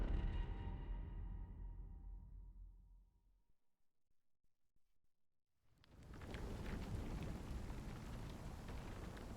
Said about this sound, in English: we got a storm going on outside